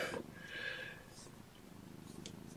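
Several nursing kittens purr together, a soft low continuous rumble close by, with brief faint squeaks and rustling over it.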